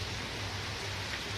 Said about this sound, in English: here we are in the midst of the rain.